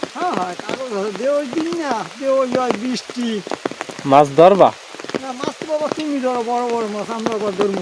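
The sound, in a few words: rain falling during village fishing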